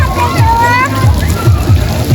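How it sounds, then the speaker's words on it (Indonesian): A child swims and splashes in a water park pool in Lhokseumawe, with water sloshing and slapping in repeated close splashes and low rhythmic thumps while voices talk over it. "Wow, berenang Kucrut."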